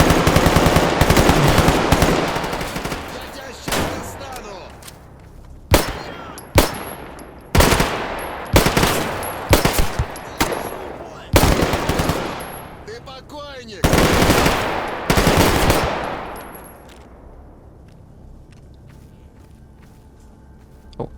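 Enemy gunfire in the video game Stalker GAMMA: a long opening burst, then a series of sharp, evenly spaced single shots with echoing tails, fading into quiet near the end.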